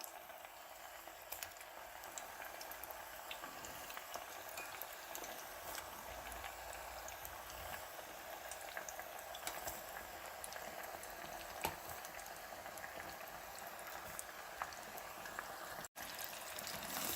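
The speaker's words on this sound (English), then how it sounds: "the trick here is you want to fry these exactly 2 minutes" Pork belly pieces deep frying in hot oil give off a steady bubbling sizzle that stays fairly even throughout, with no one talking.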